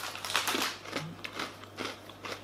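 Thin, crispy salted pretzels bitten and chewed close up, a few sharp crunchy snaps with brittle crackling between them, fairly quiet over a low steady hum, no talking.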